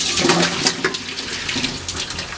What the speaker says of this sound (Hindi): अब मैं इसे स्ट्रेन कर लूंगी और एक दफ़ा पानी से धो लूंगी आपके सामने